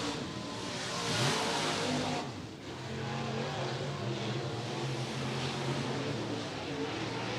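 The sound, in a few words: dirt late model race cars taking the green flag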